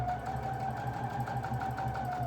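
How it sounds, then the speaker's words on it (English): A sewing machine runs a straight stitch along patchwork squares, giving a fast, even mechanical whirr with a steady pulsing rhythm, close and continuous throughout. "I'll go about 1/4 of the way in with the needle and do my straight stitch"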